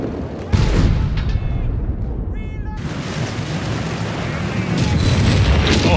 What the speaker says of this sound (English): This beautiful artillery